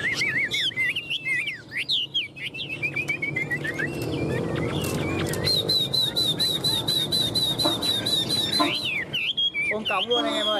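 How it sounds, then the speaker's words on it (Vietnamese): Close, loud song from a tame Chinese hwamei songbird: rapid warbled chirps and trills, then a long run of evenly repeated high whistled notes, ending in quick varied calls, with a faint background murmur under it. "Chim thuần cánh đuôi VIP nhá anh em nhá"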